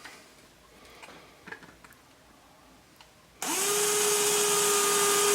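Power drill fitted with a 1/16-inch bit boring into a half-inch piece of material, suddenly starting up after quiet handling noises and holding a steady, loud, close whirring whine to the end.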